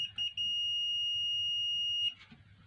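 A multimeter gives a steady, high continuity beep lasting almost two seconds, preceded by a few short chirps, while a rice cooker is being repaired; a low mains-like hum sits underneath.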